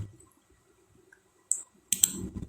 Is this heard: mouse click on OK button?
yes